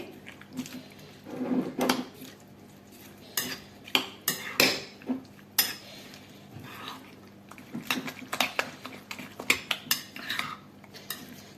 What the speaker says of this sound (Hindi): अब हम इनको अच्छे तरीके से मिक्स करेंगे।